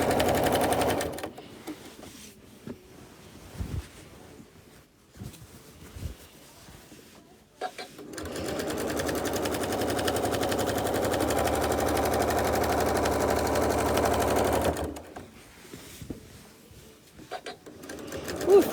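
A sewing machine runs during machine quilting, with short stop-start stitching bursts at first, then a long steady whirring run of several seconds, then stopping again, with someone talking in the pauses.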